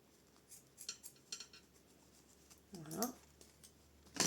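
Small scissors snip thread in a quiet indoor sewing session, a few faint light metallic clicks and snips scattered through, with someone speaking French softly around them.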